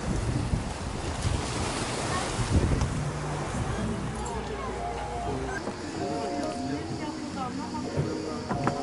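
Sea waves beside a waterside restaurant at the Six Senses Kaplankaya hotel in Turkey wash in a continuous broad rush, heavily buffeted by wind noise on the microphone, with faint voices in the background.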